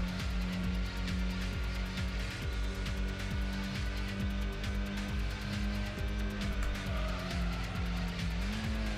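A race car's engine in the Gran Turismo video game drones and revs steadily, with gear-shift pitch changes and tire squeal, loud and continuous throughout.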